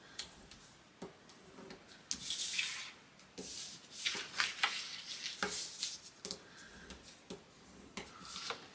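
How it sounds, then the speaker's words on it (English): Paper flaps of a scrapbook album are folded and burnished by hand. The quiet rubbing and scraping strokes come close up and repeat irregularly, with soft taps between them. "Fold and burnish our flaps, the tab on our flaps."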